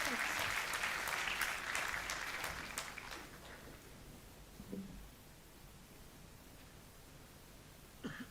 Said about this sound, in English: Please have a resounding round of applause